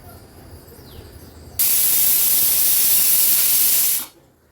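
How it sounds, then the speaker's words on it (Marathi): A pressure cooker cooking peas lets out a single loud, sustained hissing whistle of escaping steam that starts abruptly, holds for about two and a half seconds, then cuts off sharply. "आपण कुकरची ही एकच शिट्टी काढून घेतली आहे."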